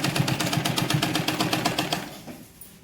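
A sewing machine stitches a fall onto a saree in a fast, even run of close mechanical clicks for about two seconds, then slows and stops.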